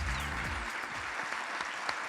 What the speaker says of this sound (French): Vous applaudissez Madame GS et Charlotte Danty qui vont me rejoindre.